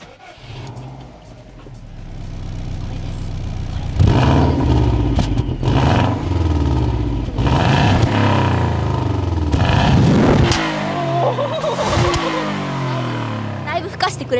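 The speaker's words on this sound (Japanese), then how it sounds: "ドロドロドロドロっていうちょっと均等じゃない音がすごいかっこよくて" A Subaru Impreza WRX GDA boxer engine revs hard several times, loud and close, with the uneven, lumpy burble of an unequal-length exhaust between blips. Someone talks over parts of it.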